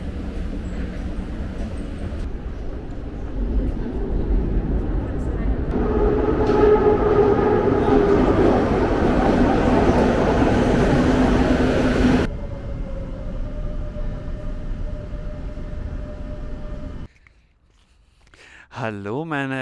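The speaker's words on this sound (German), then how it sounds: "jetzt fahren wir das erste Mal U-Bahn." A Madrid metro train ride: loud rolling rumble and rising roar of the subway car, then a steadier hum and tonal whine as it runs, with a voice speaking over it.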